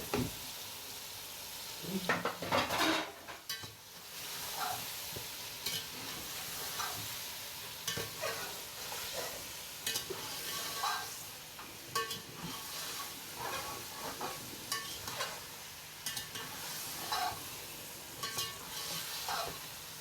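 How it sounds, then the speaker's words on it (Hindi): Beef pieces fry in a tomato masala in a large pot for yakhni pulao, producing a dense, steady sizzle with frequent irregular stirring scrapes and knocks of the ladle throughout, fairly close and without talk. "ये भी इसको मैं 5 मिनट भूनूंगी।"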